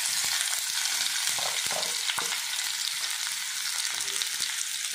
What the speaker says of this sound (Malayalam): അതിലേക്ക് നമ്മൾ അരിഞ്ഞു വെച്ചിരിക്കുന്ന രണ്ട് സബോള ഇട്ട് കൊടുക്കുന്നു.